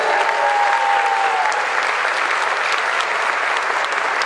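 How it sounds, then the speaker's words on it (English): A concert audience applauds a high school band steadily, a dense wash of clapping that holds at an even level throughout, with no voices over it. "Can we give him one more round of applause?"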